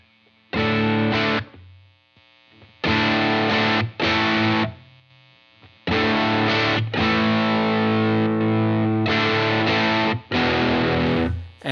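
Distorted electric guitar through a Lytt Effects Benny the Jet pedal adding mid character, loud sustained chords and riffs in several bursts with brief pauses, close and with no talking.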